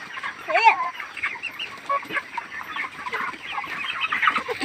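Chickens clucking on a poultry farm, a busy overlapping chorus of hens' clucks and calls close by, continuous throughout with no talk.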